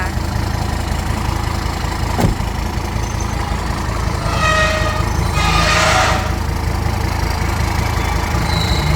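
A car engine with over 200,000 km idles steadily and loudly throughout, a low continuous rumble with a brief click near the start.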